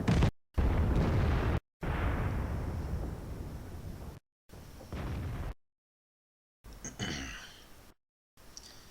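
An enemy vehicle is destroyed in a tank battle video game, with a string of loud booming explosion bursts separated by abrupt silent gaps, followed by fainter crackling debris.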